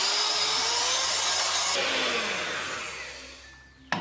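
An electric beater whirs steadily through carrot cake batter with sugar, a loud continuous motor hum that drops in pitch and fades as it slows, ending with a short knock.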